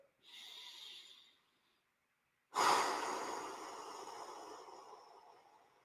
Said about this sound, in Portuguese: Respira pela barriga.